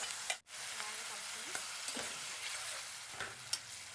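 A soft, steady sizzle of raw papaya pieces coated in tamarind pulp frying in hot oil, fairly quiet, with a few faint clinks and stirring scrapes.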